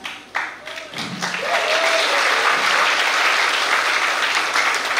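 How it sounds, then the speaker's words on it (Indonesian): Audience applause at a religious talk, starting with a few scattered claps and a brief voice, then swelling into steady, dense clapping from a large crowd. "Dia yang mengawali tepuk tangan."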